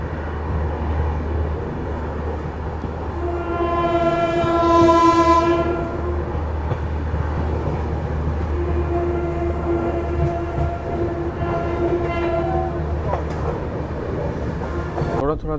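The 12242 Amritsar–Chandigarh intercity train runs along the tracks with a loud, steady rumble, and a distant train horn sounds in long sustained tones that rise and fade, with brief murmured voices in the background.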